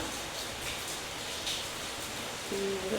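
Rain falls steadily as a faint, even hiss of drops on surfaces, distant and continuous with no voices, and a faint tone appears near the end.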